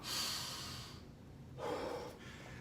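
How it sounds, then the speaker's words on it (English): Two forceful breaths during a martial arts conditioning workout: a noisy inhale through the nose, then a hard, gusty exhale through the mouth, close to the mic with a short gap between them. "Breathe in through your nose. Hard out through your mouth."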